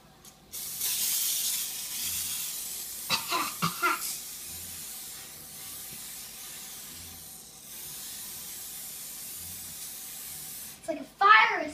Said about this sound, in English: you need to spray it with spray.